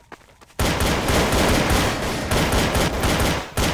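Rapid automatic gunfire from Counter-Strike: Source, loud and sustained after a brief quiet opening, with bursts continuing nearly without pause to the end.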